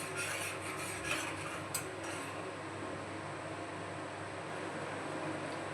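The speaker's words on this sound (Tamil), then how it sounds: "போட்டு சர்க்கரை கரையிற அளவுக்கு கலக்கினே இருக்கணும்" A spoon stirs sugar into a homemade jelly mixture until it dissolves, giving a soft, steady scraping rasp that runs evenly throughout with no talking.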